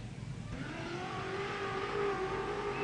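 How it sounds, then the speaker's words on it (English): A super sedan race car engine revs hard at a speedway, its pitch climbing in a loud, continuous roar with no talk over it. "Whoa, Ronnie is revving."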